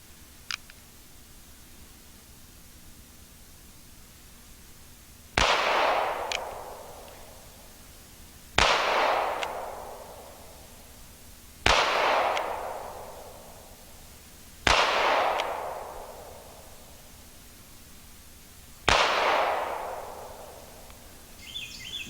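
A small North American Arms revolver fires five sharp shots outdoors at a steady pace about three seconds apart, each crack trailing off in a short echo, fairly loud against a quiet background.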